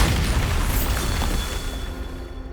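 A Bombarda blasting spell in Hogwarts Legacy sets off a loud, booming explosion with deep rumble that slowly decays into a ringing tail.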